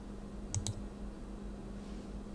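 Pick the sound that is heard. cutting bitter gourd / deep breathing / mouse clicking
mouse clicking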